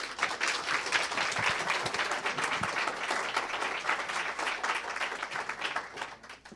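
Steady audience applause welcoming a speaker at a Café Scientifique talk on longevity and cellular aging, dense clapping from a room of listeners that holds for several seconds and then tapers off.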